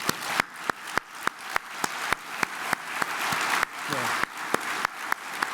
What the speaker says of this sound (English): let's give the RIC organizers and the security personnel a round of applause right now